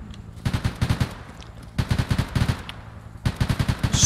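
Bursts of automatic gunfire in Arma 3, set in the Vietnam War, come in three clustered volleys of rapid, punchy shots separated by short pauses over a low background rumble.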